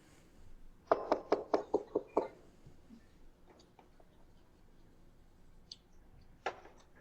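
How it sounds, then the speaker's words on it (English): A burst of about seven quick, firm knocks on a home's front door, close and fairly loud, followed by quieter scattered taps and a single later knock in a hushed room. "CPS knocks on your door unannounced."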